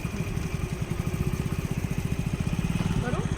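Scooter engine running at a low, steady idle with a rapid, even pulsing throb, close by and continuous during a beginner scooter riding lesson, with an instructor talking over it.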